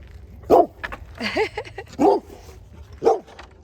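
A dog barks three or four times in short, spaced bursts, fairly close, with a few softer yips and whines in between.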